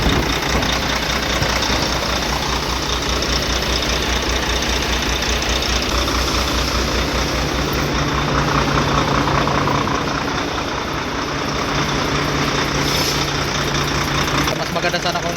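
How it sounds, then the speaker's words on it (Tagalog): Volvo truck diesel engine with a dead injector misfiring, a loud, steady, uneven knocking rumble running throughout, close by, with voices faintly under it. "Merong injector na patay rito, kaya palyado at mausok."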